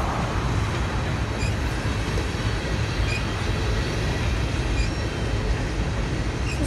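A BNSF grain freight train rolls past nearby with a continuous loud rumble of rail cars and wheels, faint squeals flickering above the steady roar throughout.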